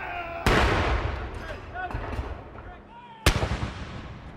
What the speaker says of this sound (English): the birth was marked by the firing of cannon.